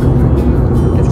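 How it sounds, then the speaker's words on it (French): A speeding Corvette gives a loud, close burst of rumbling engine and road noise that lasts only about a second. "La corvette qui allait trop vite."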